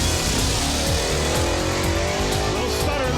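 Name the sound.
drag racing car launching down track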